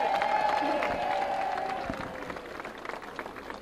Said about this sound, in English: they need a big round of applause to thank them for what they did for us today.